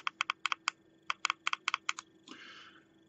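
Five quick, sharp clicks on the button of an iPV Xyanide vape come in an even burst, then another run of clicks, followed by a short soft hiss. The sound is close and crisp with no talk.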